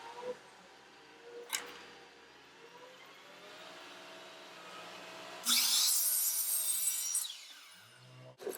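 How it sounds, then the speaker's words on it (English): A miter saw cuts wood pieces to length in a home woodworking shop: a brief whine spins up and bites through the board for about two seconds, preceded by quiet handling knocks and faint shop hum. "Back to the miter saw, I cut each piece to its final length"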